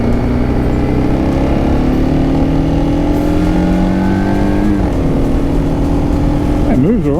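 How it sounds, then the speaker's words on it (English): A 2003 BMW F650GS motorcycle with a Rotax single-cylinder 650cc engine runs close and loud while riding, its engine note rising steadily, dipping briefly, then wavering near the end. "This is a 2003 BMW F650GS. It's a Rotax single-cylinder 650cc engine, made in Austria, the engine."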